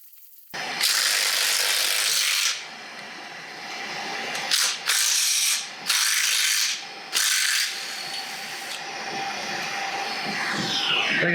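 Ratchet wrench turning a stretching bolt during a top-end teardown of a worn 351 Windsor engine until the bolt breaks. Close, loud bursts of ratcheting clicks come in several spurts with brief pauses, then fade into a lighter continuing ratchet.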